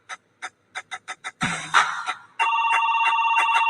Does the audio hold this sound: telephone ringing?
yes